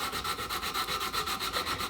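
Steady, rhythmic back-and-forth scraping of fine-grit sandpaper by hand on metal, removing 100-grit sanding lines, about five strokes per second, continuous and close with no talking.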